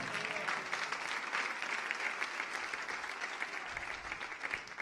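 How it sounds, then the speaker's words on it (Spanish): A church congregation applauds steadily throughout, a dense, continuous wash of clapping from many hands at moderate level with no single voice standing out. "que le dé un aplauso, hermano."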